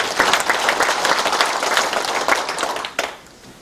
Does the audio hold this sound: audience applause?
yes